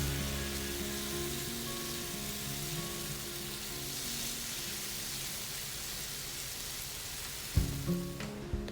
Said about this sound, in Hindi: तो भून के इसको अच्छी तरह खुश्क कर लें।